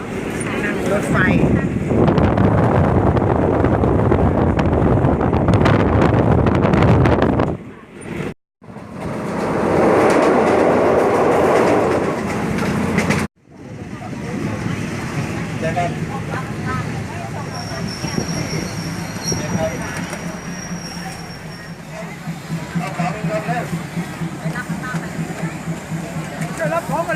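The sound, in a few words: riding on a train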